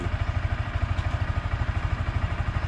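A motorcycle engine runs with a rapid, even low-pitched putter and a light mechanical clatter, close and steady, with no talking.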